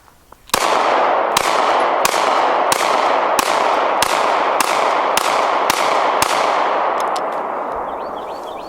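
Smith & Wesson Shield Plus pistol firing about eleven sharp, evenly spaced shots in quick succession, loud and close, with a ringing reverberant tail between reports and no talking.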